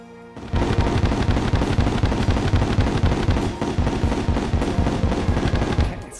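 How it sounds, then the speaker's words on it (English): Onyx Chain Blaster in Terraria Calamity firing a rapid spread of bullets and onyx shards, a dense run of loud, closely spaced crackling shots like firecrackers, starting abruptly after a brief pause and continuing steadily to the end. "Onyx Change Blaster fires a spread of bullets and onyx shards."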